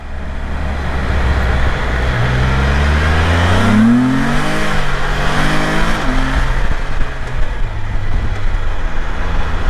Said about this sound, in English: This thing is crazy, spinning that back tire all over the place.